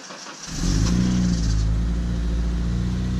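A car engine passes on a nearby road, rising from quiet into a steady loud mid-pitched drone that holds for a few seconds, with no voices.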